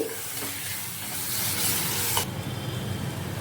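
Spice powders, garam masala and crushed kasuri methi being mixed in a sizzling pan, a continuous close hiss and stirring with a sharp scrape before the sizzle softens.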